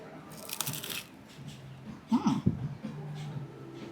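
A few crisp crunching bites of flatbread with fig up close at Jock Lindsey's Hangar Bar, Disney Springs, with chewing noises and soft rustling between them, no talking.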